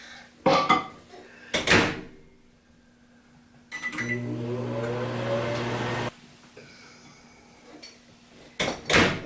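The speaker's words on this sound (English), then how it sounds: "we are going to put this in the microwave for 1 minute" A couple of sharp clunks of a microwave door, then the microwave hums steadily for a few seconds before stopping, followed by more door clicks.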